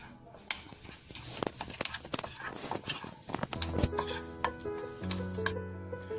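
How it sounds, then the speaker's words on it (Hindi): Paneer being mixed with red chili powder, black pepper, salt and red chili sauce, giving irregular clattering knocks of a spoon against the bowl that grow busier, with a sustained tonal hum joining partway through. "अब इसको हम अच्छे से मिक्स कर लेंगे।"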